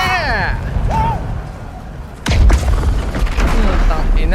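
War machines smash through fortress gates in the video game God of War Ragnarok, a single heavy, deep boom midway followed by low rumbling, with excited voices talking over it.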